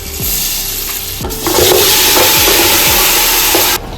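Spice masala of ginger-garlic paste, chilli, turmeric, cumin and garam masala frying in oil for mutton paya, a loud close sizzle with repeated spoon scrapes against the pan as it is stirred.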